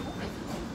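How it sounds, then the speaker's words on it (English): Tram number 2 rumbles along its rails as the car moves, giving a steady low rolling noise close by, with no voices over it. "tram number 2 that we're getting onto"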